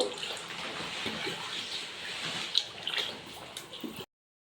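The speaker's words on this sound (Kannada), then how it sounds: "ಎರಡು ಜಗ್ ಅಕ್ಕಿಗೆ ನಾಲ್ಕು ಜಗ್ ನೀರು ಹಾಕಬೇಕು" Water splashes and gurgles steadily into a rice pot for pulao, a continuous pouring wash of sound close by, stopping abruptly near the end.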